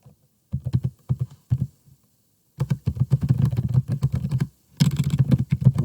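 Bursts of close, clattering keystrokes as keywords are typed on a computer keyboard, in several quick runs separated by short pauses.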